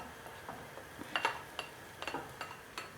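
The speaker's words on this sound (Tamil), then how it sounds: "on met les feuilles de curry et on mélange" Shallots and curry leaves being stirred in a pan with a utensil: soft, irregular scrapes and light metallic clinks, close and quiet, with no talking.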